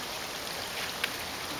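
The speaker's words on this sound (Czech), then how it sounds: "Jo, ale musím si vylejt vodu z bot." Water pouring out of a wet boot, a continuous splashing hiss that runs steadily and fairly close, with one brief splash near the end.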